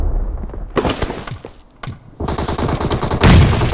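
Shotgun blasts ring out in a team-match video game, several loud, close booming shots in quick succession with dense gunfire between them and a final heavy blast, without voices.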